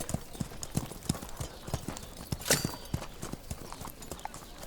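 Hooves of a ridden Polovtsian horse clop in a steady rhythm, close and distinct, with one sharper noise partway through and a faint voice at times.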